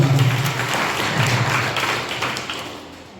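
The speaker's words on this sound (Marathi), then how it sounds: "जरा टाळ्या वाजवा." A crowd claps at a Hanuman temple renovation ceremony in a village, a short, dense burst of applause that fades over a few seconds.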